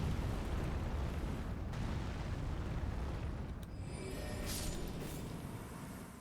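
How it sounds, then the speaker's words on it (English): Continuous rumbling explosions in the video game Elden Ring, a dense, loud, low roar of blasts and booms with crackling debris, sustained throughout. "It starts like everything starts exploding."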